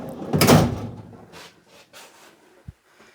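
A wooden drawer slides and bumps, followed by quieter rustling and a sharp knock near the end.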